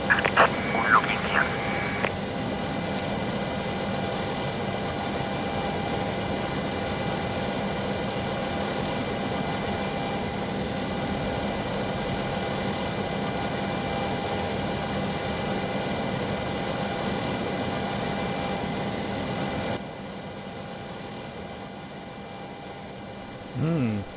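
A Boeing 727-200F freighter's jet engines run in Microsoft Flight Simulator 2020, a steady droning hum with a faint higher whine that holds evenly and then drops in level near the end.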